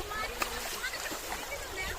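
Water splashes and sloshes in a village stream, a continuous close wash of broadband splashing with one sharper splash, while people talk over it.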